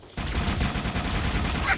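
Rapid gunfire in Halo 3 ODST, a fast rattling burst of automatic shots that is loud and close and continues steadily after a brief quiet start.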